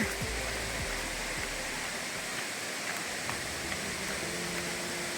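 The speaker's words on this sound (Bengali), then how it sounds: "বেশ ভালো স্রোত আছে মনে হচ্ছে, বেশ জোরে জলের আওয়াজ হচ্ছে।" A mountain torrent at Rangbhang rushes over rocks as a steady, loud, broadband roar of water, close and continuous, with no voices.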